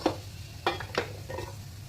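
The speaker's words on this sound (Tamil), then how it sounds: "வெந்தயம் போட்டு வெந்தயம் நல்லா பொறிஞ்ச உடனே" Fenugreek seeds frying in hot oil in a clay pot, giving a soft, close sizzle with a few brief crackling bursts and faint stirring scrapes, no talk.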